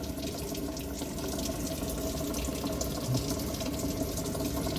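Water rushes steadily into a Samsung inverter top-load washing machine under repair, a continuous loud, close hiss and splash of filling with no talking.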